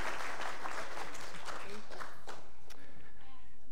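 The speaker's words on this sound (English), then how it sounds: "Let's give them one more hand of applause." A church congregation bursts into sustained applause, a dense wash of many hands clapping together, fairly loud and filling the room before tapering slightly at the end.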